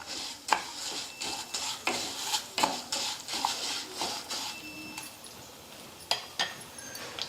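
Cinnamon, black pepper and other whole spices for sambar powder dry-roasting in a pan: sharp scraping strokes and clinks of a spatula against metal in an uneven rhythm, with a faint dry rustle between them, close and fairly quiet.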